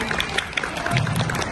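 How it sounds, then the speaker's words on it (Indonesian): A hall audience gives festive applause to welcome Ganda Hasanuddin and Bunda Hajar, two education speakers. It comes as a steady, moderately loud wash of many hands clapping, with no voices over it. "kita sambut dengan tepuk tangan yang meriah kepada Ganda Hasanuddin Magister Pendidikan dan Bunda Hajar Pendidikan"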